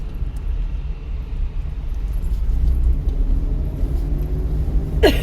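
A car engine rumbles low and steady as the driver slowly lets out the clutch, the drone swelling slightly and ending in a short rising whine; no one speaks.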